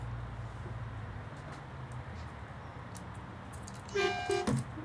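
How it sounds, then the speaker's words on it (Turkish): A truck horn in the Euro Truck Simulator 2 video game gives a couple of short, bright blasts near the end, sounding over a steady, droning engine rumble. "Kornaya bak."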